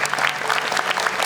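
Studio audience applause on the television show Hafiz Indonesia 2020, a steady, close burst of many hands clapping with no talk.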